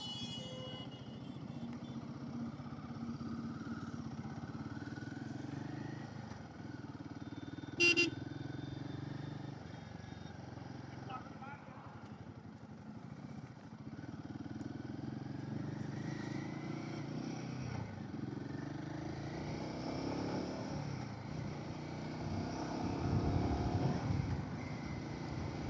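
Royal Enfield Himalayan 450 motorcycle cruising on a highway: a steady, fairly quiet engine drone with wind rumble throughout, a brief horn-like blip early on, and the sound swelling slightly toward the end.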